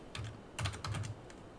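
Light typing on a computer keyboard, a few quiet bursts of key clicks close by, with brief pauses between them and no talking.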